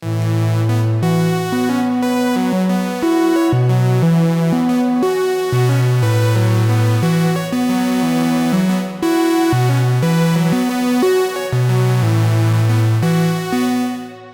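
Two synthesized sequencer tracks play interlocking repeating patterns in a 3:2 ratio at a steady tempo, loud and continuous, with no voices.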